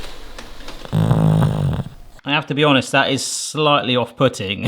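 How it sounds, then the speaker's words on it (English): A short rumbling, snuffling snore from a pug, followed by a person talking nearby. "That's the sound of a snoring pug."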